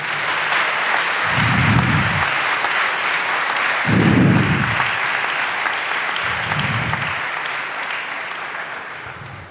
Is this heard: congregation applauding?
yes